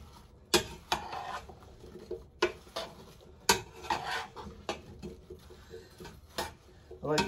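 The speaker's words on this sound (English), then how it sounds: "Let's make sure all that butter's all mixed all through them." A spoon scrapes and clinks in a pot as apple pie filling is stirred with butter, giving repeated sharp knocks and scrapes in an irregular rhythm at close range.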